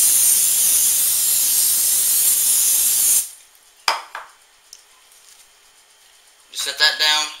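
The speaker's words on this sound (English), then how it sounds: "Spray a cookie sheet." Cooking spray hisses loudly and steadily from a can onto a cookie sheet for about three seconds, close up, then stops, followed by a few quiet handling knocks and clatters.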